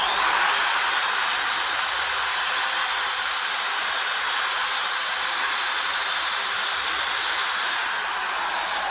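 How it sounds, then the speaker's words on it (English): A Harbor Freight Warrior nylon abrasive clean-up wheel on a power tool scrubs a metal surface and bolt threads, giving a steady, loud high-pitched whirring hiss that holds constant throughout with no talking. "I'll give a shot on that surface with this nylon bristle"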